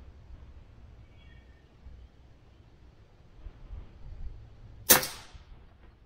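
A single shot from a Crosman Quest 1000x pellet air rifle, one sharp crack near the end after quiet outdoor background, with a short trailing decay.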